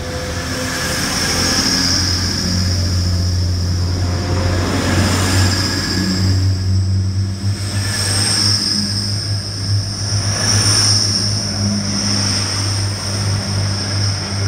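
A Class 180 diesel train (180111) rumbles steadily on platform 2 at Grantham station, engine droning low with a high whine rising as it pulls away; loud and continuous, no voices.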